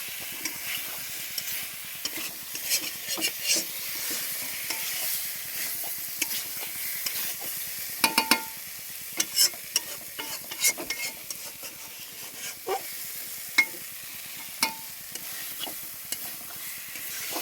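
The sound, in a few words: sautéing and stirring masala in a pan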